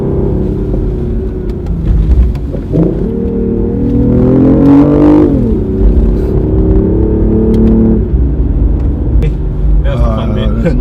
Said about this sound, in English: we're gonna test the acceleration